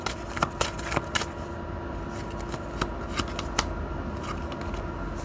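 Tarot cards are shuffled and slid back into the deck, giving soft papery riffles and several sharp close snaps and flicks in an irregular rhythm, with no speech.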